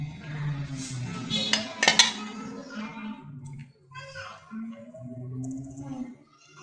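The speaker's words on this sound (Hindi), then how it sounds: "अब यहाँ पर हम अपना बचा हुआ सिरप इस पे हल्का हल्का सा डालेंगे।" A metal spoon clinks against a dish as leftover sugar syrup is spooned over fried bread slices, with a few sharp taps and soft wet drips close by and a voice talking over them.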